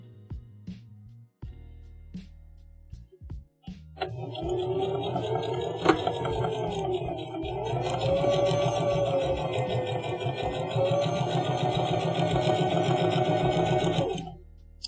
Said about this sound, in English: now I am doing a top stitch that stitches that seam down so that it will not move too much